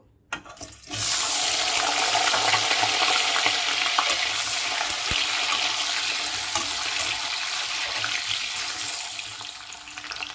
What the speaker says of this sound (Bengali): আমি একটা বড় আলুকে এইভাবে টুকরো করে কেটে নিয়েছি, এটা এখন আমি ভেজে নেব।